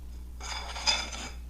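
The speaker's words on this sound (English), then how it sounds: "I am going to scrape the side with a spoon here just to make sure that my flour is all incorporated." A spoon scrapes around the side of a mixing bowl of savoiardi cookie batter, folding in flour with a few close, soft scraping strokes.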